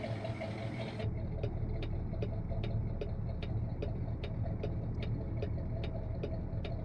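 A Kenworth truck engine in the video game American Truck Simulator idles steadily in a low rumbling drone while a sharp ticking clicks at an even, regular pace over it.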